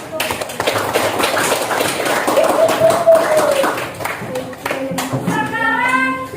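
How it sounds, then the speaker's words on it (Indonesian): Classroom clapping for students after a solid-particle simulation activity in a teacher-supervision lesson, broken handclaps mixed with voices and chatter throughout, with a brief tonal voice or whistle partway and talking near the end. "kita beri tepuk tangan"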